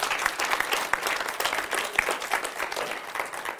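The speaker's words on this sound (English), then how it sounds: "Can you give the Lord a hand clap of praise?" A church congregation claps in praise, a dense, continuous burst of many hands clapping at once, with faint voices mixed in.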